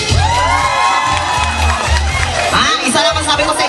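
A live audience shouting and cheering instead of clapping, a loud, dense wall of excited voices and whoops close by, sustained for the whole stretch.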